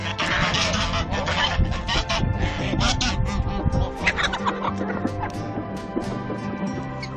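Geese and chickens raise a dense, continuous din of honks, cackles and squawks as they rush toward feed, loud and close throughout.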